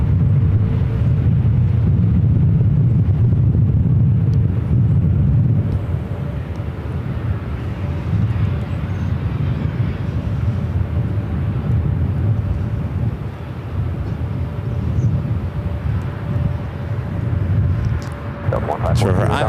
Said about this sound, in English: our next arrival is another heavy, a 777-300ER, EVA Air Flight 12